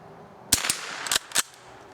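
Four sharp, light cracks of a .22 firing Sellier & Bellot CLUB rounds at a swinging steel target, spaced unevenly over two seconds against a quiet outdoor background.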